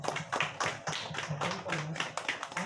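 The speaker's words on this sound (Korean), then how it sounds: "박수로" A small church congregation claps together during a service appointing a deaconess, giving quick, fairly even rounds of hand claps, close and somewhat faint, for a few seconds.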